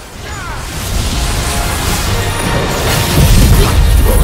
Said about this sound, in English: And lightning!